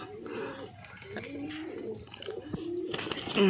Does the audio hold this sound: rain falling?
no